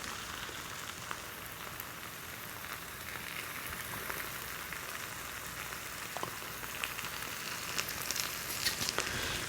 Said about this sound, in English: When you hear it really sizzling, you don't want to burn it.